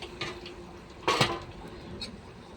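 A metal lid is lifted off a pot of simmering papaya and beef, giving a short, close clatter and scrape about halfway through, with faint kitchen clinks before and after.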